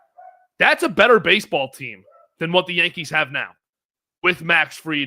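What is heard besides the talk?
dogs barking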